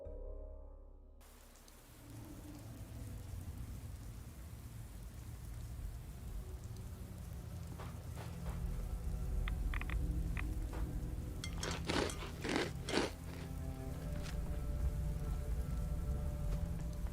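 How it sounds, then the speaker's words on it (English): Steady rain in the video game Fallout 4 patters on a surface, soft at first and then heavier, with a few sharp crackles partway through and no voices. "I can still hear the rain."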